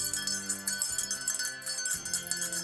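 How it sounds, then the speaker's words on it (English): Small jingle bell said to come from Santa's sleigh, shaken in two bright tinkling bursts of about a second each over a faint steady hum. "they sent me my very own bell from Santa's sleigh"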